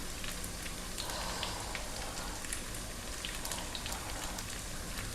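Small onions and green chilies sizzle steadily in a hot pan, a constant close crackling hiss with no talk, continuing evenly throughout.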